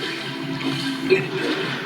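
Water rushes steadily in Legend of Zelda: Twilight Princess, a continuous broadband flow heard alone at moderate loudness, with one brief chime-like blip in the middle.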